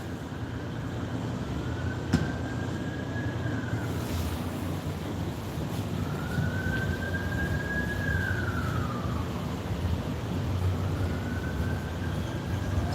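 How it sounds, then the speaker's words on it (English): A distant siren wails in slow rising and falling sweeps over steady wind and surf noise, faint and far off. "That's all I've been hearing the last 2 days is just sirens and sirens and sirens."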